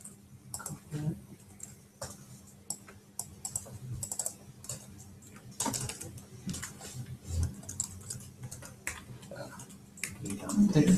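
Typing on a computer keyboard during a coding session, with irregular bursts of sharp key clicks and taps throughout, heard close up alongside intermittent talk.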